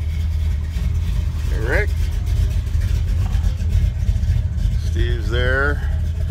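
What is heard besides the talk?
classic cars idling and revving at car meet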